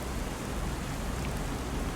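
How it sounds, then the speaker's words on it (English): Steady rain falls in the Farming Simulator 25 video game on a UK farm map, a constant even hiss with no breaks or voices. "hopefully it's gonna stop raining soon"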